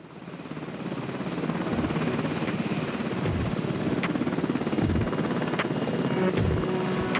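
A helicopter's rotor thuds steadily and loudly, a continuous chopping roar that swells in at the start and holds throughout.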